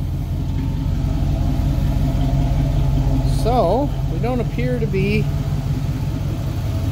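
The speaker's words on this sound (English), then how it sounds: "So the car's still running." A 1966 Pontiac Catalina wagon engine runs at a steady, close idle with an even droning hum, while someone talks over it briefly.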